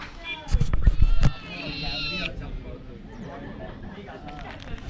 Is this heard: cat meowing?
yes